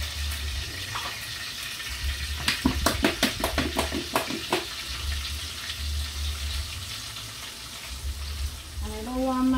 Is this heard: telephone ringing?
no